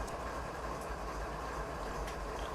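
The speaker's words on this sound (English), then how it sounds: "Let me know if my train sound is too loud." A freight train rolls through a Canadian mountain pass near Revelstoke in Train Simulator 2019, a continuous low rumble with rail noise and occasional faint clicks, steady and fairly close, with no talking.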